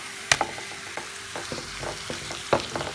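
Onion fried in vegetable oil is stirred together with meat in a pan on a gas stove, giving a steady sizzle broken by sharp scraping and clinking spoon strokes, close up and with no talking.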